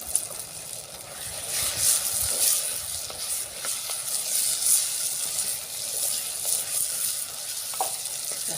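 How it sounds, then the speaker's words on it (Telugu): Ginger garlic paste sizzling steadily in a hot pan of fish curry, a continuous bright frying hiss with faint stirring scrapes, up close and without talk. "ఇప్పుడు ఇంకా అల్లం వెల్లిగడ్డ ముద్దేస్తాను"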